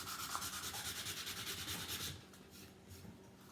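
Hand sanding across a painted wooden sign, a steady rhythmic back-and-forth scrubbing that runs close and loud for about two seconds, then drops to quieter, sparser rubbing.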